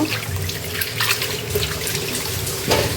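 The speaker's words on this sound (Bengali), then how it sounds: "এই তো এখন আমি এত সুন্দর মতো ধুয়ে নিব" Water from a running tap splashes over pieces of beef head meat as they are rinsed clean, a close, steady gush with shifting splashes and a brief louder burst near the end. No one speaks.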